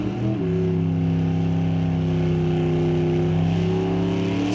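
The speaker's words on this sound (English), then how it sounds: "350 small block pulling that Camaro down the strip." Small-block 350 V8 in a 1984 Camaro pulling hard down a drag strip at an NHRA divisional event, a loud, steady engine drone with strong low harmonics that shifts pitch once early and then holds, continuous for several seconds.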